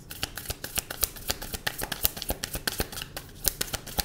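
Close, brisk shuffling of a tarot deck, rapid rhythmic papery slaps and riffles repeating several times a second for a few seconds.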